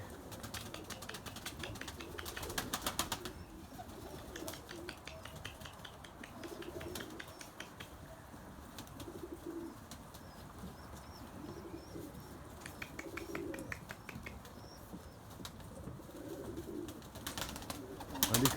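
Soft pigeon cooing repeats in low bursts against a busy background of chirps and rustling, with a few wing flaps near the end.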